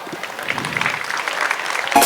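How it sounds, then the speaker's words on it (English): Parents applaud at a school program, a steady wash of clapping held at an even level for about two seconds with a brief louder swell at the very end; no one speaks over it. "Thanks to all our parents for encouraging us with your banging applause."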